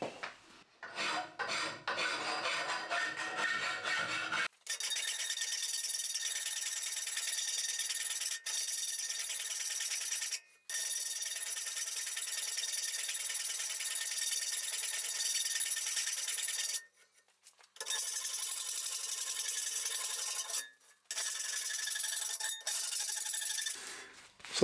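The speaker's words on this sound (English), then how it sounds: "I'm just going to file all of the edges." A hand file scrapes along the rough metal edges of a homemade monitor wall bracket in long, steady rasping strokes, close and clear, with a few short pauses between passes.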